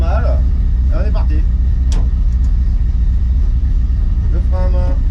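Loud, steady low rumble of a Dodge Charger engine from inside the moving car on a test drive, with a voice talking briefly over it.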